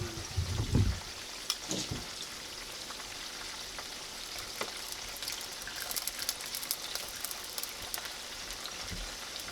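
Food turning over in hot canola oil, crackling and sputtering steadily with scattered sharp pops and a few louder splashes near the start, close and fairly quiet throughout.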